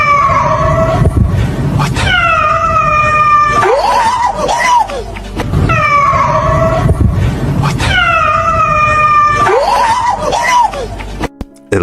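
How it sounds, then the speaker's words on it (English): An unidentified creature that looks like a black panther lets out long, harsh cat-like caterwauls. The loud, close, wavering screeches repeat about four times over steady background noise. "this thing has the ugliest screeching sound that just makes it sound unreal"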